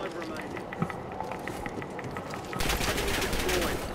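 Rapid bursts of Kompakt 92 submachine gun fire in Call of Duty on Rebirth Island, fairly faint and mixed under game noise, with a denser burst near the end.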